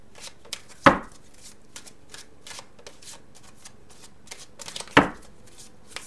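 Tarot cards being shuffled and drawn, with two crisp riffle bursts a few seconds apart and soft papery flicks and slides of cards between them, close and clear.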